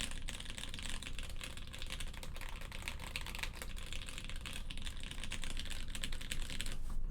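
Typing on a Space65 mechanical keyboard, a fast continuous stream of close clacky keystrokes, steady and uninterrupted, with no talk.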